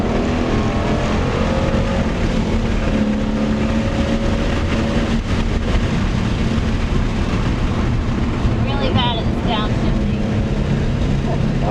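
A race car at Road Atlanta drones steadily under throttle, a loud continuous engine roar with shifting pitch throughout, while someone talks over it.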